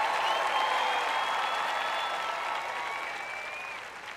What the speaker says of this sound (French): Maintenant, vous pouvez applaudir et faire du bruit.